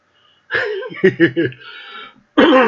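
A harsh, throaty cough in a rapid burst of three or four hacks, close and loud, then a brief pause before a voice starts speaking.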